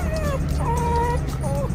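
A dog whimpers and yips in short, high, wavering cries at cows standing on the road, heard over a constant low vehicle rumble during a road trip through Oregon.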